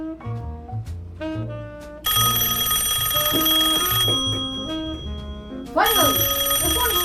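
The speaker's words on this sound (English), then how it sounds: "Finally, the phone is ringing." A telephone rings in a loud, bright electronic trill that starts about two seconds in and keeps going steadily, with a short earlier bell-like tone and a brief warbling sweep near the end.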